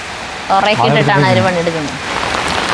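Steady rain falls on a home garden in Kerala, a constant hiss on surfaces throughout, while a voice speaks briefly over it.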